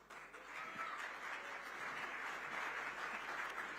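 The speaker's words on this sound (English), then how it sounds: "Can we please have a huge round of applause once again for Rishabh?" Audience applause at the Indian Of The Year Awards ceremony, a continuous even wash of clapping from a large crowd, heard alone without talk.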